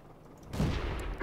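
A tank cannon fires in World of Tanks while a T-127 Russian premium tank is being played, a single sudden boom that rolls into a short rumbling decay, with a faint higher tone at the end.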